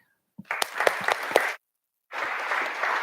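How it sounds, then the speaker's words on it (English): A TEDx audience in Sugar Land applauds as speaker Frank Shamrock is introduced; a few sharp individual claps swell into steady applause, cut out briefly, then resume as a dense, even ovation. "I want you to give a big round of applause to the Frank Shamrock"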